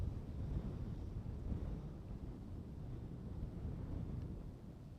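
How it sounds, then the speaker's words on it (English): Steady wind rushing across an open airport runway area at night, a continuous low roaring buffet with gusty swells, loud and close with no talk. "Nothing is blocking the wind."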